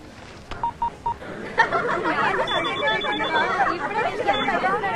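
A phone placing an outgoing call, with a short run of dialing beeps followed by ringing tones, while excited voices talk loudly over most of it in a comedic movie scene.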